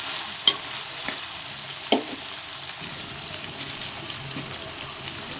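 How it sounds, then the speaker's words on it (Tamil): Ginger-garlic paste fries in a pan for an onion poori kurma, a steady close hiss of sizzling broken by a few soft scraping stirs near the start. "நல்லா கிளறி விட்டுக்கணும்."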